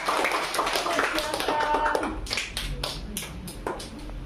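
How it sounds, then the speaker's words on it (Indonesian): An audience applauds a storyteller at a church gathering for children in Indonesia. The clapping is a dense, fairly loud patter that thins out with scattered claps, and a voice speaks partly over it. "kita berikan tepuk tangan dulu buat Kakak Meriam"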